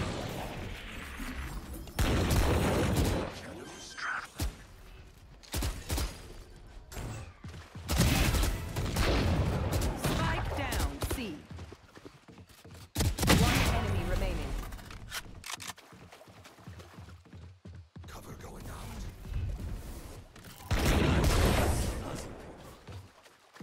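Gunfire in the video game Valorant, including a Marshal sniper rifle, comes in loud bursts and bangs scattered through tense play, interleaved with excited player voice chat.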